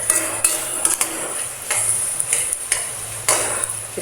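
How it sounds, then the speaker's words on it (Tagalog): Pork adobo with potatoes frying in its own fat in a pan: a steady hiss with sharp spatters and light utensil clinks against the pan, close and fairly loud, with no talking. "Iprito lang natin to konti."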